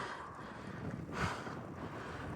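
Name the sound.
wind while cycling uphill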